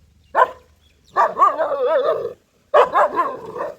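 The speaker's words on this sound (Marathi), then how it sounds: "बघितलं का असलं खतरनाक कुत्रं आपलं डॉगेश बाई" A farm dog near a cattle shed barks and yips in three close, loud bursts, the middle one drawn out with a whining edge, no talk over it.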